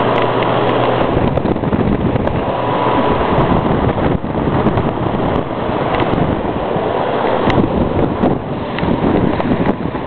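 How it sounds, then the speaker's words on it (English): A 1950s Monarch air circulator table fan running on high speed, a loud, steady broadband whoosh of rushing air with little variation throughout, close to the microphone and with no talking. "1950s Monarch air circulator"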